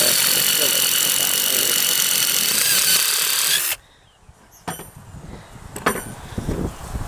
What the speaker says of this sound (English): you're going to drill until you meet that middle hole